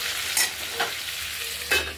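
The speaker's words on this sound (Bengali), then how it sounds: "হলুদ করে ভাজা করে নেব" Food fried with turmeric sizzles in a pan with a soft steady crackle, broken by a few scraping stirs.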